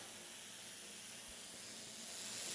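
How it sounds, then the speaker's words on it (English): Steady, soft hissing of a spray bottle misting a paper towel for starting pepper seeds, a continuous airy spray with no talking. "I like to get mine wet using a spray bottle."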